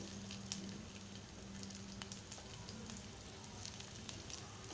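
Mustard seeds, asafoetida and garlic sizzle in a couple of spoons of hot oil for a Malvani colocasia-leaf dish, a steady, faint crackling fry with small pops and no talking.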